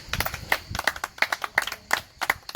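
A church congregation claps steadily in a rhythmic beat, roughly three claps per second with a stronger accent about every third of a second, sounding roomy and sustained.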